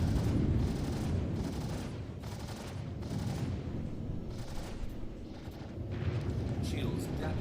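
Bursts of gunfire in the Star Citizen space game rattle in repeated volleys over a rumbling background, with a voice talking over the shooting.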